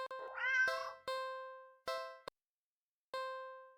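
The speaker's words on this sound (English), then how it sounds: "Cat lets out a sad, pleading little sound." A hungry cat in the video game Do Not Take This Cat Home gives a drawn-out pleading meow, then several shorter plaintive mews spaced apart, close and clear with no talk.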